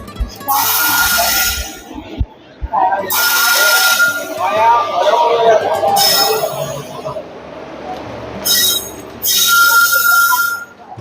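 Railway station noise at Shoranur station, Kerala: a train's wheels squeal and hiss in several loud bursts separated by short lulls, with people talking in between.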